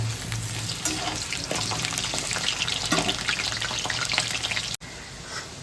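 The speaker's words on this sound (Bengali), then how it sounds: "এখন দেখো আলুটা ভাজা হয়ে গেছে অনেকটা" Potatoes frying in oil in a home kitchen give a dense, steady sizzle that fills the whole stretch close up, with a brief dropout just before the end.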